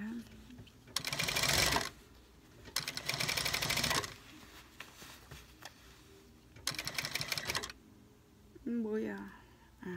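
A sewing machine stitches the hem of jeans in loud rapid bursts of a few seconds each, separated by pauses; a person talks between the runs.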